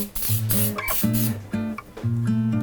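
Baker's Joy baking spray hisses from the can onto a 9-inch cake pan in several loud, close bursts of spray, with a steady whining tone under each burst.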